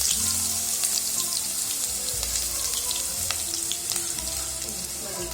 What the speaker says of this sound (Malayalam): ഇനി ഇതിലേക്ക് 2 മീഡിയം സൈസ് സവാള ചോപ്പ് ചെയ്തത് ഇട്ട് നന്നായി വഴറ്റി കൊടുക്കാം